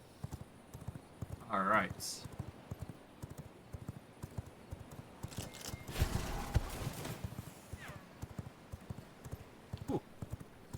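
Rapid clip-clop of a fast horse's hooves galloping in the video game V Rising, dense and continuous with a brief whinny-like burst, while a person speaks briefly over it.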